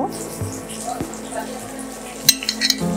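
Yard-long beans frying with dried loitta fish in a pan, stirred with a ladle: a steady soft sizzle runs throughout, broken by a few light scraping clinks of the ladle near the end.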